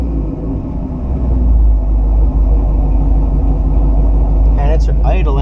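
A 1969 Buick Special Deluxe engine idles with a deep, steady rumble close by, and someone speaks briefly near the end.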